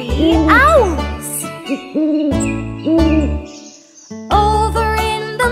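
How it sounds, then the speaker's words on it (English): Sung owl hoots in a children's nursery song about a mother owl and her three little owls, bright repeated vocal hoots over a bouncy musical accompaniment with chimes, loud and close. "lives an old mother owl and her little owls three. Hoot, says the mother."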